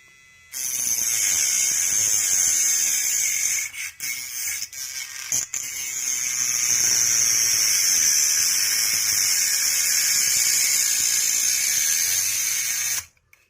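An OCA glue remover machine, a Mechanic IR 14 Pro, running at speed setting 4: a loud, steady high-pitched motor whine that starts abruptly, dips briefly with a few clicks and bumps, then holds steady before stopping.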